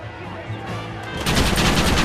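Gunfire in the Western video game Red Dead Redemption, a dense burst of shots that swells louder halfway through and keeps rattling to the end.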